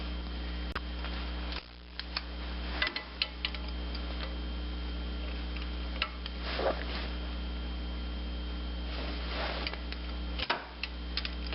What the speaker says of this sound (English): So we'll torque all these down.